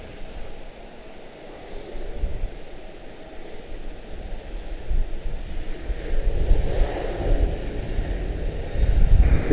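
At Charlotte-Douglas International Airport, a jet airliner's engines spool up for departure, a broad, steady roar that swells louder toward the end under gusts of wind noise, with no talk.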